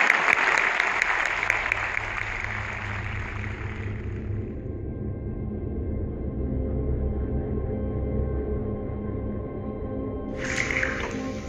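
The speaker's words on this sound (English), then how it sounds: "Please, a warm welcome and applause." An audience applauds to welcome a speaker onto a stage, a dense wash of clapping for about four seconds that tapers off, then a brief burst of applause returns near the end.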